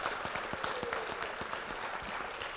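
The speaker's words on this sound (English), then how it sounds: "a round of applause." Convention attendees at a fraternity's regional public program give a speaker a round of applause, sharp individual claps standing out within a steady crowd clapping.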